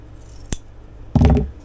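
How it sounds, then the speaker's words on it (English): Scissors cut through fabric pieces for a summer jumpsuit: one sharp snip, then a brief, louder crunching cut about half a second later, close and with no one talking. "now we've got all of our pieces cut out"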